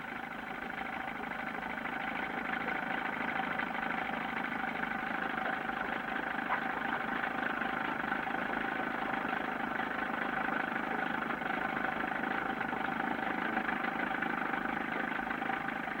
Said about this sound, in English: the small outboard churning slowly